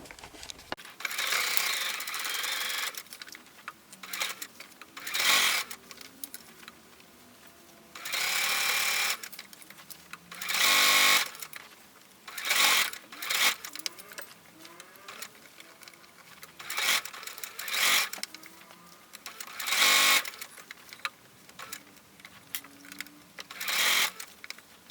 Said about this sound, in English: I'm doing a 1/2 inch seam allowance, and I have set my stitch back to a smaller stitch size